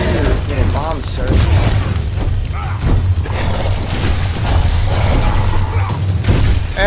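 Bombs exploding in the video game Evolve, heavy booms and crashes layered into a dense, loud game soundscape with a low rumbling bed, while a voice talks over the action throughout.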